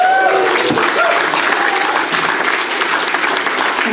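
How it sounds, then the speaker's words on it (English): Audience applause at a live music performance, a dense, steady wash of clapping from a crowd, loud and continuous throughout with no voices standing out. "Can we have a massive round of applause for Ian and John on the sound?"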